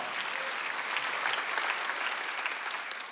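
Worshippers at a Korean church's Sunday service applaud in unison, producing an even, continuous wash of clapping from a large group that swells slightly midway and then eases off.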